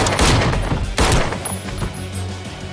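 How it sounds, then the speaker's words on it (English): Rapid gunfire bursts from The Matrix Resurrections crackle loudly and densely in two clustered volleys, with echoing reports trailing off between them. "And Keanu Reeves' newfound gunplay skills."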